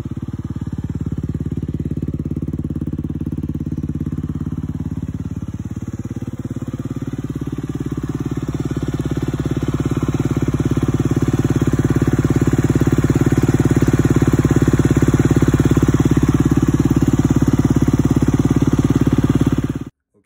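A 2021 Honda CRF250R motorcycle engine turns over and settles into a steady, close idle that swells slightly in loudness and then holds, cutting off abruptly at the end with no talking.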